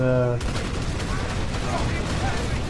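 Rapid bursts of grenade launcher fire rattle in the real-time strategy game Rise of the Reds, a dense stream of explosive thumps and crackle following a brief tone, with a voice talking faintly underneath.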